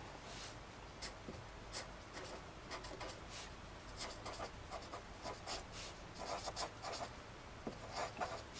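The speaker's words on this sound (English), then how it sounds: "So what I like to write is like this." Handwriting with a pen on paper, a faint steady scratching of short strokes and taps going on throughout, quiet and close, with no talk.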